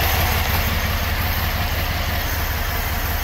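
A V6 engine in an Equinox or Terrain idles steadily while running on carb cleaner during injector cleaning, a close, constant low rumble with no speech.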